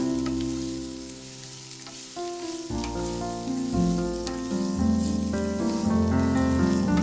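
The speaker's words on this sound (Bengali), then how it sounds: "সবজিগুলো ভাজা হয়ে গেছে" Vegetables and chopped green chilli frying in a pan for Kolkata street-style veg and egg chowmein, a continuous loud sizzle with occasional stirring and clinks, no talking.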